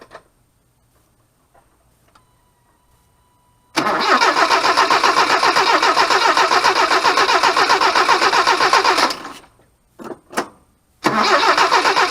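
A 1978 Toyota pickup with a 20R engine is cranked after quiet shuffling: the starter grinds loudly and steadily for about five seconds without catching, then stops, two short bursts follow, and a final crank begins.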